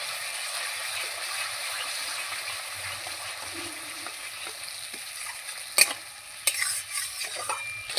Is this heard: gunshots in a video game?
no